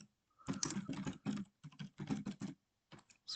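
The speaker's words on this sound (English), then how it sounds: "Let's type in anything." Quick bursts of keystrokes on a computer keyboard, close and clear, coming in short rhythmic runs separated by brief pauses, with no talk.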